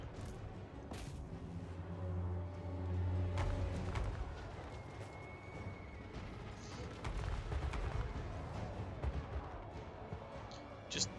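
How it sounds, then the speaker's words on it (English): Artillery in a video game pounds a horde of undead, with repeated heavy booms and blasts rolling one after another over a dense battle din, the loudest bursts clustered early and mid-sequence. "Watching the undead just get devastated as they walk in by our artillery."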